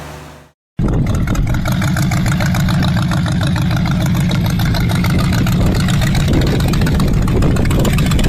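Large C32 diesel engine delivering 1,100 kVm, starting up after a brief gap and then running steadily with a loud, dense, even roar and fine rhythmic pulsing.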